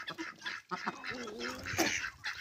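A brown drake on a small farm gives raspy, nasal quacks in quick bursts, close and fairly clear, with no talk.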